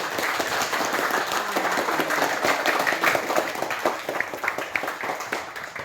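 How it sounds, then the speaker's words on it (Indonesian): Enthusiastic applause at a Christian religious-education class in Ambon, with brisk, close clapping that swells and then thins into scattered claps toward the end. "tepuk tangan untuk Tuhan"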